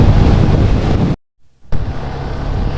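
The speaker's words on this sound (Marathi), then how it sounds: "मला लाटा पण एवढ्या सुंदर दिसत आहेत ना त्या हवेमुळे लाटांचा वेगळा फवारा उडतोय" Strong wind roars against the microphone over the sea waves at Dhanushkodi, loud and constant apart from a brief dropout.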